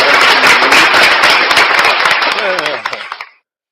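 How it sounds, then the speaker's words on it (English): Applause sound effect played on a livestream: a dense burst of crowd clapping, loud and close, that thins out and cuts off abruptly after about three seconds. "I'm even gonna get you an applause."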